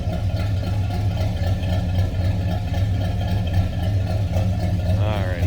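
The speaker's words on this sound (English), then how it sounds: "Deep exhaust note." The exhaust of a 1964 Pontiac LeMans 400 V8 burbles steadily at idle, a low, throaty, deep continuous rumble with a rhythmic pulse, close and fairly loud.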